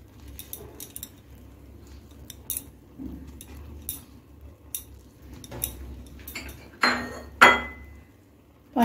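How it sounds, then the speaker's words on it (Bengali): A spoon stirs egg pulao in a cooking pot, giving scattered light clinks and scrapes against the metal that grow sharper and louder toward the end. "আমি একটু নাড়িয়ে দিচ্ছি যাতে নিচে লেগে না যায়"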